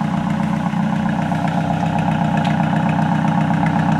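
A VW Gol G2 car engine idles steadily without being revved, with white smoke and vapour coming from the exhaust. The idle is a continuous, even, moderately loud low rumble that stays level throughout, with no speech.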